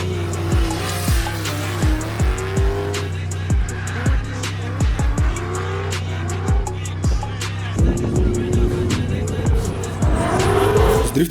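Drifting car sliding with repeated sharp tire squeals over a steady engine drone, several screeching bursts rising and falling, close and loud, with a longer squeal near the end.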